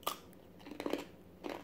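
Raw eggplant being bitten and chewed up close, with a sharp crunch at the start, then a few soft, wet chewing bursts and another crunch near the end.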